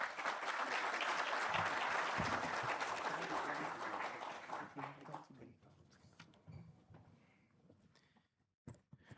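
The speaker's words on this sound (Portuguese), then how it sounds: "Uma salva de palmas" Audience applause at the installation ceremony of the Brazilian Federation of Antique Vehicles board, a dense, steady wash of many hands clapping for about five seconds before thinning into scattered claps and room noise.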